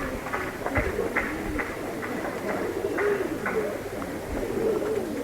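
Pigeons, including a Punky male, coo over and over at a home loft: soft rolling calls repeat in a steady rhythm, close by and fairly loud.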